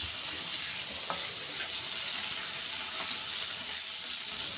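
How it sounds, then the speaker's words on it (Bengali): Diced potatoes fry in oil over a medium flame, giving an even, continuous sizzle with a couple of faint clicks, close and alone with no talking. "মিডিয়াম ফ্লেমে একটু লাল লাল করে আলুগুলো ভেজে নেব।"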